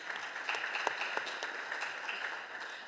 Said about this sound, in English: I think we need to applaud that young man